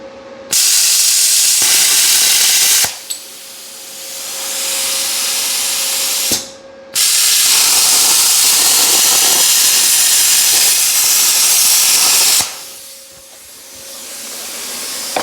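A Harbor Freight plasma cutter at 55 amps and 100 psi cutting 1/4 inch steel: loud, close, continuous air hiss and roar in long bursts, stopping and restarting twice, with a faint tonal hum underneath.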